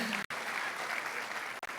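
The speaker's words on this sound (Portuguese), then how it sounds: "Podem aplaudi-lo?" A church congregation applauds in a brief, even burst of clapping that fills the whole moment, with two short breaks near the start and end.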